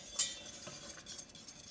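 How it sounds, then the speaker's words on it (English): A whisk stirs freeze-dried blueberry oatmeal in a pot, giving a light metallic clink up front followed by quiet scraping and faint taps against the pot. "And we will whisk it in"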